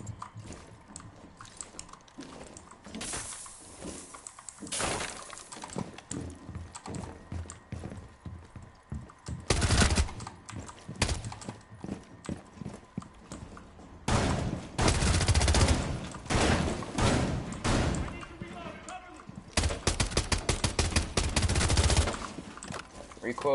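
Bursts of rapid gunfire from guns in the Rainbow Six video game, several loud sustained volleys separated by quieter stretches, with some talk underneath.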